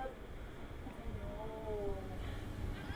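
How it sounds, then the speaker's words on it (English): A house cat wanting to go out meows in a drawn-out, wavering call at moderate distance over steady background noise and a low rumble. "Kitty cat wants to go out."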